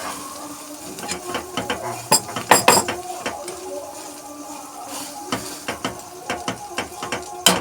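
An egg omelette fries in a pan, with a steady sizzle under repeated scraping, tapping and clinking of a utensil against the pan, loudest in a cluster near the middle; no one speaks.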